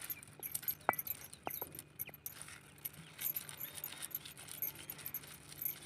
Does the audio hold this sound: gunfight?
no